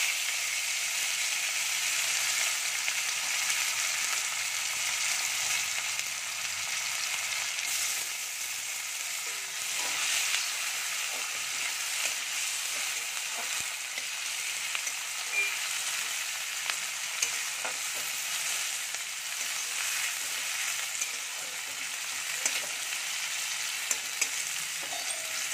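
Chopped onions and black cumin seeds fry in hot oil with a steady, bright sizzle that holds evenly close by for the whole stretch, marked by a few faint stirring clicks.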